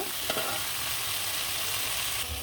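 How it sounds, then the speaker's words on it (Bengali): Fish head dropped into hot oil in a pan for a gourd and fish-head curry, giving a steady close sizzle and crackle that runs throughout with a small pop near the start. "এখানে কিন্তু তেল বসাই দিলাম তেলের মধ্যে ছেড়ে দিব মাথা"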